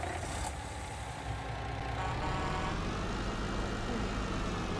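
A heavy tractor engine runs steadily nearby with a dense, broadband rumbling drone and no clear change in pace or any talk.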